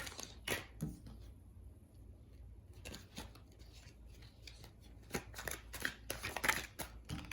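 Tarot cards being shuffled, soft quiet riffling and flicking in scattered bursts, close by, with a busier stretch of shuffling toward the end.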